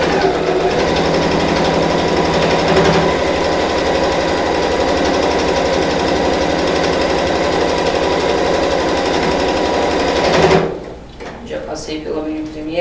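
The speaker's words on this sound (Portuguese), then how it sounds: "Então vou costurar toda a volta, passo aqui da minha abinha, dou um retrocesso" Sewing machine stitching all the way around the edge of a small fabric wallet, running steadily and loudly for about ten seconds with a brief backstitch, then stopping abruptly and leaving quieter handling sounds.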